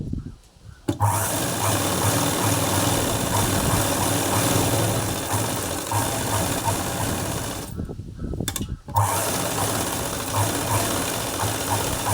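A tailoring sewing machine stitches cloth around the front part of a garment, a steady fast mechanical whirring run that pauses briefly twice and then resumes, with no talking.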